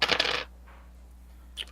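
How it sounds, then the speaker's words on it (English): A die tumbles onto a tabletop during a tabletop roleplaying session, a brief loud clattering burst that settles quickly, followed by a faint small tap near the end. "give me a die roll for the postcog"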